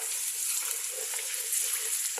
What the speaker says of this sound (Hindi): मीडियम हाई फ्लेम पे मैं प्याज को गोल्डन ब्राउन करूँगी